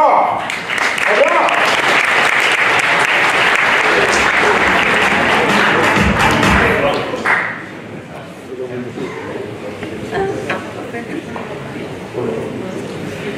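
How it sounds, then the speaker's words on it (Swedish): An audience breaks into warm applause for arriving guests, loud dense clapping for about seven seconds before fading into scattered claps, crowd murmur and voices talking. "En varm applåd."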